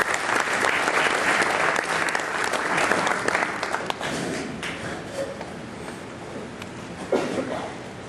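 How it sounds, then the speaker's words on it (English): Audience applause rings out at an FFA banquet, full and continuous at first, then tapering off gradually, with a few thumps and footsteps as someone comes forward. "Okay, could we please give her a round of applause?"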